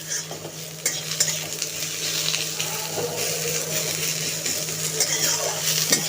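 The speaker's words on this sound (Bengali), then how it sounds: "একটু পেঁয়াজটা ভাজা ভাজা হয়ে যাক" Onions fry in a small amount of oil with a constant crackling sizzle, while a utensil stirs and scrapes them and clinks now and then against the pan. A low hum sits underneath.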